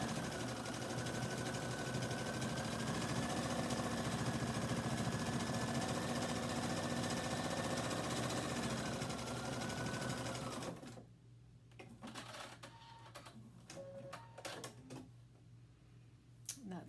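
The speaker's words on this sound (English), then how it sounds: "line up the side of the fabric with the inside of the presser foot so that the zigzag point is right at the edge of the fabric" A sewing machine runs a steady zigzag seam finish along the edge of chambray fabric for about ten seconds, a close continuous mechanical whir, then stops, leaving scattered quieter clicks and handling noises.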